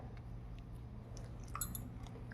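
Crunchy chewing of a crispy jaggery gorumitilu sweet shell, soft close bites and crackles over a low steady background hum, no talking.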